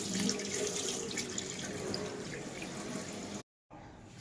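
Tap water runs steadily into a sink as purple yam (ratalu) is washed, a continuous rushing flow that cuts out briefly near the end and then resumes.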